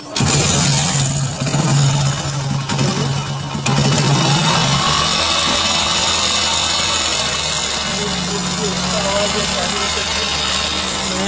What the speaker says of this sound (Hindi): मैं इस गाड़ी में स्टार्ट करके आवाज़ सुनाता हूँ एक बार।